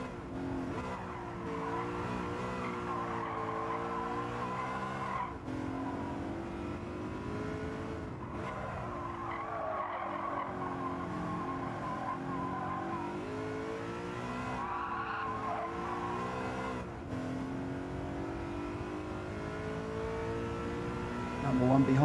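Race car in Gran Turismo 7 going too deep into a corner under light braking, with a continuous loud engine drone and tire scrub running throughout, a voice talking over it.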